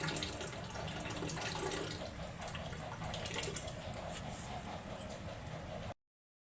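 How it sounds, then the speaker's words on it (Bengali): Pointed gourds (potol) rinsed with water in a small bowl, a steady close splash and trickle of running water that carries on unbroken and then stops abruptly. "এই যে পটলগুলোকে আমি ভালো করে জল দিয়ে ধুয়ে নেব"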